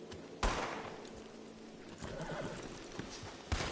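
A horse whinnies amid clip-clopping hooves in the video game Red Dead Redemption 2, with sharp bursts like gunshots punctuating the scene at the start and end.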